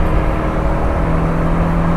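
A Volvo 740 engine hums and revs steadily at close range while the car drifts on snowy roads, a continuous loud drone with a firm low tone and no pauses or speech.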